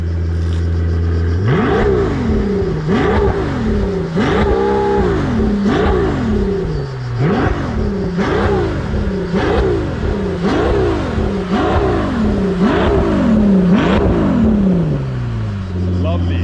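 A Pagani Utopia's manual V12 engine revved repeatedly in sharp rising and falling bursts, about a dozen blips in a row, loud and close, after a lower idle at the start.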